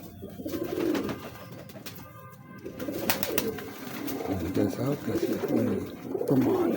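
Pigeons coo in soft, repeated low calls through a fancy breeder's loft, a near steady murmur with brief pauses while people talk over it.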